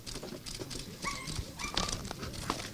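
Dogs at a military base whimper and give short yelps against a steady hum of crowd noise, the calls moderately close and scattered through the moment.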